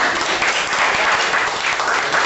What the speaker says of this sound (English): Definitely a big round of applause for volunteers who helped make it here.